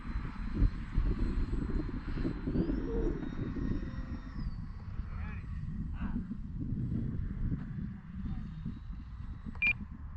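An E-flite Valiant RC airplane's small engine drones steadily at a distance, rising and falling slightly, with low rumbling wind and a faint beep near the end.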